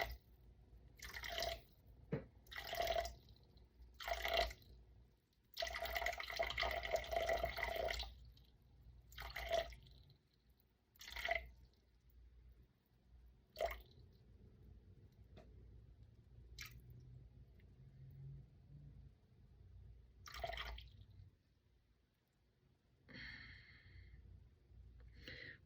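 Water is poured into a bowl of sourdough dough ingredients in a home kitchen. Soft splashing and dripping come in uneven bursts, with a longer steady pour in the middle and quiet gaps between. It is close and faint, and no one speaks.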